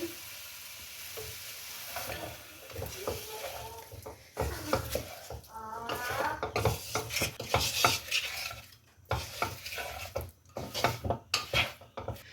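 A utensil scrapes and clinks against a pot while chicken and turnip with spices sizzle steadily underneath, with irregular stirring strokes throughout.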